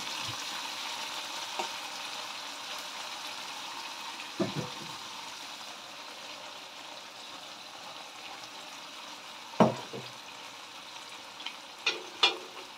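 Canned sardines fry in a pan with a continuous soft sizzle. Occasional louder stirring clatters and scrapes come through, especially near the end.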